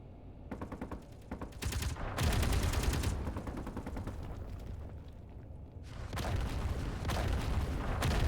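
Turret gunfire in the video game Escape From Pertam, loud rapid bursts of automatic fire that stop briefly and then resume as sustained volleys, with no talk.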